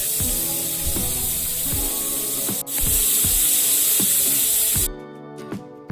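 A pressure cooker of moong dal khichdi lets out a loud, steady steam whistle for several seconds before it cuts off abruptly. A rhythmic background beat plays underneath and carries on after the hiss stops.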